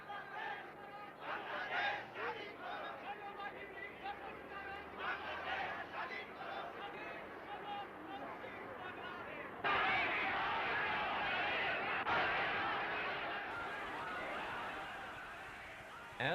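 A large crowd at a Bengali mass rally for independence makes a dense, distant roar of voices and chatter that swells louder partway through.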